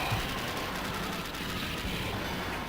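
Dense, continuous bursts of explosions and rapid gunfire from the Metal Slug arcade game, a loud, unbroken clatter filling the whole stretch with no talk over it.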